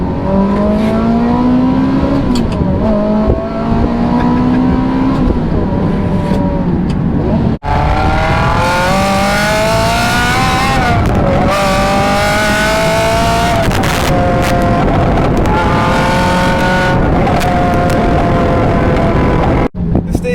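A Ferrari 360 engine revs hard and climbs through the gears, loud and close, with a shrill rising whine and brief pauses between pulls.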